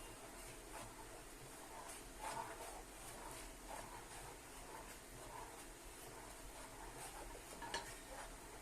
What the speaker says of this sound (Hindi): सब चीजों को अच्छी तरह से मिक्स कर लूंगी मैं इस तरह से